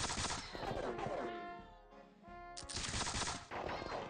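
A musket volley fires in the video game Campaign 1776. Dense bursts of overlapping shots crackle together, fade into a ringing tail, then a second loud burst follows near the end.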